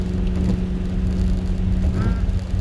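A 2015 Subaru WRX with a straight-pipe exhaust cruising in fourth gear at about 3,000 RPM, a loud, steady, droning exhaust rumble heard from inside the cabin.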